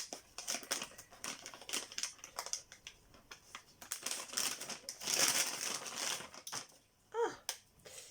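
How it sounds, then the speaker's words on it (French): Close, dry crinkling and crumpling of stiff paper in quick irregular bursts, with a short pause before a final rustle. "j'aime pas le bruit du papier craft"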